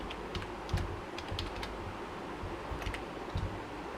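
Rapid typing on a computer keyboard, close and clear, with an irregular run of key clicks and taps continuing throughout at moderate volume, with no voices.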